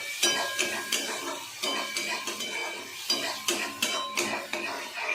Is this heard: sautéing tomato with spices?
yes